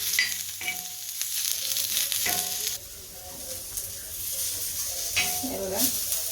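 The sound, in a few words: masala frying and being stirred in a pan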